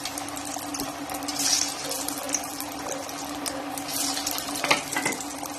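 A vegetable cutlet fries in hot oil in a pan, bubbling and sizzling steadily up close, with a few brief clinks and louder bursts.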